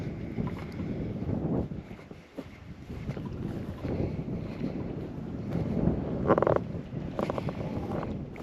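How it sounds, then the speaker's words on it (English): Wind gusting across an open hillside by the Lordenshaws Hillfort as evening falls, buffeting the microphone in a continuous rough roar with louder surges, close and unbroken, no talking. "The wind's getting up a bit now as that sun's dropped."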